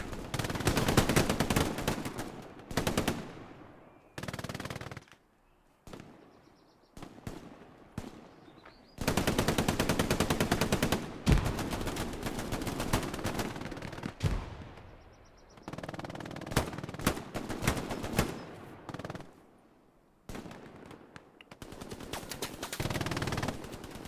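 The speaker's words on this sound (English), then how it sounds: "Here's the MG42. Holds. MG gets wiped." MG42 machine gun fire in the Hell Let Loose WWII shooter, a competitive 18-vs-18 match: repeated loud bursts of rapid automatic fire broken by short pauses, with scattered gunshots from other weapons in the mix.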